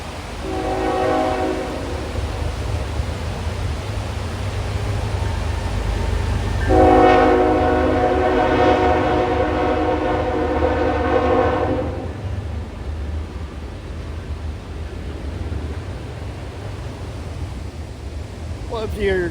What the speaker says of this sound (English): you gotta include a real train once in a while